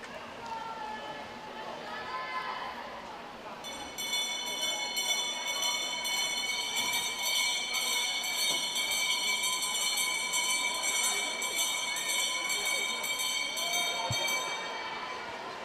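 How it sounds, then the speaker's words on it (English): A bell rings steadily and rapidly near the finish of a swimming race at a summer regional meet, its bright clanging sustained over crowd noise and an announcer's voice. "You hear the bells indicating the not too far from the finish now"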